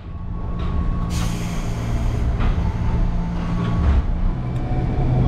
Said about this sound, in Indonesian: kereta KRL Komuter Line berangkatkan dari stasiun Tangerang